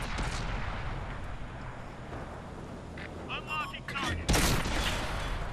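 A single heavy tank gun blast from a Sentinel tank in World of Tanks, console version, booms out near the end over a steady rumbling engine and battle din.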